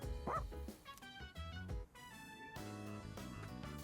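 A dog in the video game Persona 3 Reload gives short yips and bow-wow barks over busy background game music, the calls brief and fairly faint against the score.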